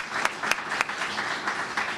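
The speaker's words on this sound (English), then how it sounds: "if we could please have one more round of applause for our wonderful administrator" A school board meeting audience claps for an administrator, a modest, fairly faint round with a few distinct sharp claps standing out over the patter.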